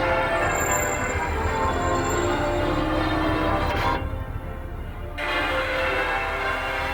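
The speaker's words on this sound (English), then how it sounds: "Oh, the lovely bells on St. Nicholas Church there, the Sailors' Church." Church bells of St. Nicholas Church, the Sailors' Church on the Liverpool waterfront, heard from a moving tour bus, ringing faintly through steady engine and road rumble.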